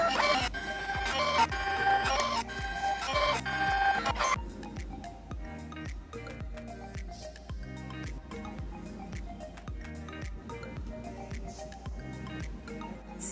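A Kodak Dock Plus 4x6 photo printer feeds a photo through with a fast, regular ticking and whirring mechanism, close and moderately quiet, running continuously without talk.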